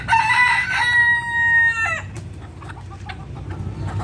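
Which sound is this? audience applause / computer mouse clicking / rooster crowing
rooster crowing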